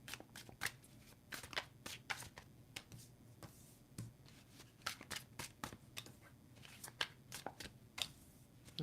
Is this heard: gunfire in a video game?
no